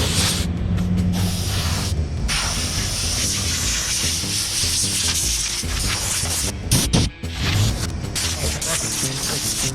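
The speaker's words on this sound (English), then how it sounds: "decided to grab the air compressor" An air compressor blows air across the roof of a Ram ProMaster van during a fan install, giving a loud, continuous hiss with brief dips and sputters near the end and faint background noise underneath.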